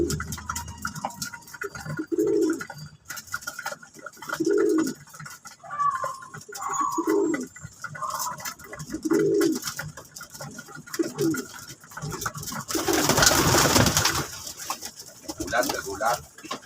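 Breeder pigeons with newly hatched young cooing in a loft, repeated low throaty coos in a slow rhythm, close by, with occasional rustles and a burst of flapping or noise near the end, alongside someone talking.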